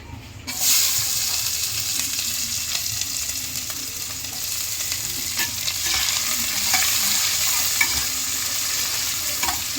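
Chopped onions fry in hot oil with cumin for chicken curry: a loud, continuous close sizzle and crackle that starts after a brief quiet moment and holds steady throughout.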